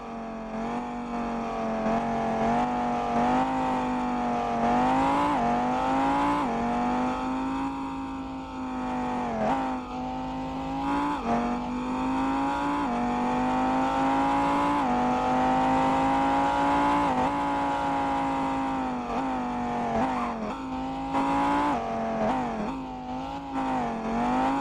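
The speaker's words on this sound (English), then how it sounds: "we get an Audi R8 that sounds like this" An Audi R8 fitted with a Lamborghini engine in the Driving Empire racing game revs and accelerates through repeated gear changes. Its loud, rising and falling engine roar is continuous and close, with no talk.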